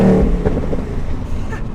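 A Ford Mustang's engine revs in a deep American-muscle tone, a loud, steady burst running close up from start to finish with a brief rise in the middle.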